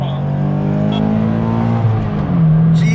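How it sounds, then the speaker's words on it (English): A Subaru BRZ fitted with a custom equal-length header exhaust revs up hard from close by, with a brief dip at a gear change before it climbs again. "the equal length header has more of a refined tone to it. It's definitely not as loud as my previous header, but it sounds so good."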